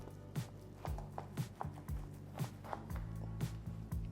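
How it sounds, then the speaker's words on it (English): A knife cuts through a smoked prime rib, slicing it into thick ribeye steaks about an inch wide. Repeated dull thuds of the blade striking a cutting board come at an uneven pace, close and moderately loud, with no talking. "just trim off a little bit off of the smaller side of the prime rib"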